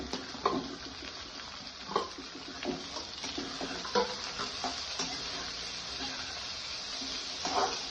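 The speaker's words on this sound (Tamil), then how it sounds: "வெங்காயம் இப்போ நல்லா பொன்னிறமாக நல்லா வதங்கணும். அது வரையும் நம்ம வதக்கிட்டே இருக்கலாம்." Continuous sizzling of onions frying in a pan until golden, with repeated scraping and stirring knocks from a utensil at irregular intervals.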